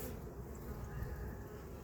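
Honey bees hum in a faint, steady drone around an opened hive during an inspection, with a few brief buzzes standing out close by.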